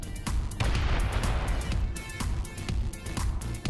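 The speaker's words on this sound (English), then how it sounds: "Oh, I hear lots of big banging noises behind me. And explosions" Dense, continuous barrage of explosions and heavy banging from combat in the space sandbox game Space Engineers, a loud, rumbling volley of rapid overlapping blasts and thuds with no pauses throughout.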